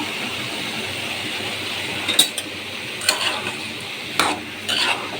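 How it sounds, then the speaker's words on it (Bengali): Vegetable bhaji cooks in a pan with a soft, steady sizzle, broken by a few sharp scraping stirs of a spoon against the metal, close and fairly quiet. "এই যে ভাজি বসিয়ে দিলাম কাঁচামরিচ দিয়ে দিব"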